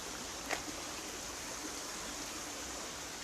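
A stream flowing downstream toward its meeting with the River Duggy at Newtown, heard as a steady, fairly faint broadband rush of running water that stays even throughout, with one brief tap early on.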